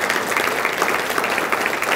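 A university audience breaks into applause, producing steady, dense clapping from many hands at moderate distance that holds even and loud throughout.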